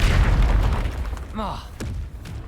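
A Confringo explosion spell cast in Hogwarts Legacy, one heavy booming blast at the start that decays over a second, followed by sharper chirping effects and a brief thud.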